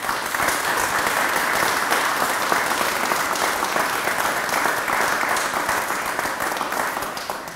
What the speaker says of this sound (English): I would really ask for a huge applause for all the people that helped us during those days